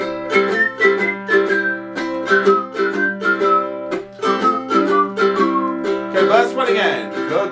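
The melody of Kookaburra Sits in the Old Gum Tree whistled over a steady ukulele strum, the tune rising and falling in short phrases with a brief pause near the middle.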